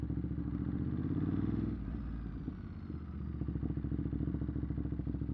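A Ducati Monster motorcycle pulls hard in first gear, its engine note loud and close with a rising rumble that dips briefly before surging again, accompanied by some clatter.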